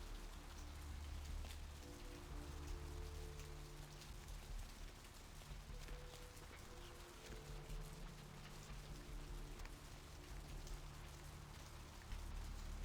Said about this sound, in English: I also just love any game that has rain.